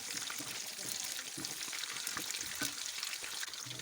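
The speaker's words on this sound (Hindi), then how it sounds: "और साथ साथ इसको फ्राई करते हुए चम्मच चलाते रहना है" Chicken koftas fry in oil while a spoon stirs them, giving a quiet, even sizzle with soft spoon movements close by.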